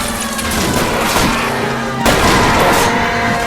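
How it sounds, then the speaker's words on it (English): Gunshots fired at a fleeing car's tires in the video game L.A. Noire ring out as a couple of sharp booming cracks over a steady engine drone, with a heavier report midway. "I'll try to shoot out his tires."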